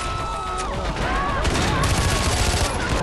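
Rapid bursts of gunfire from the video game Far Cry 4 crackle continuously over a dense, noisy background.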